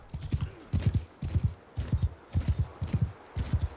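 Horse hooves gallop in Mount & Blade II: Bannerlord, a loud, close, rhythmic beat of clustered thuds repeating in steady bursts.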